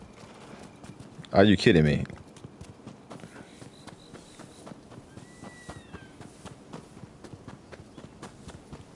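Horse hooves clip-clop steadily in a video game, a soft rhythmic patter of footfalls running through the whole stretch, with a brief loud exclamation from a player near the start.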